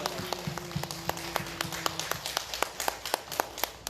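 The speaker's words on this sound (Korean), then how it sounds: "한번 감사하게 한번 박수 올려주세요." A church congregation claps in thanks at a Sunday service, a faint, fairly sparse run of hand claps that quickens toward the end, with a soft hum underneath.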